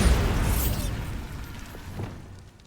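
A Bombarda spell explosion in the video game Hogwarts Legacy: a loud burst at the start whose broad roar decays over about two seconds, with a small thump near the end.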